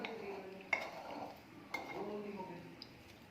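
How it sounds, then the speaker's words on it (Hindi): Kashmiri red chilli powder and other spices are mixed by hand for a carrot, cauliflower and turnip pickle: faint soft scraping with two sharp spoon clinks against the bowl and a softer tap near the end. "अब इन सबको अच्छे से मिक्स कर लेंगे।"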